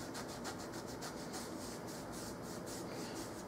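RAM sticks being rubbed clean with rubbing alcohol give a soft, rhythmic scrubbing, repeated quick strokes close by with no talking.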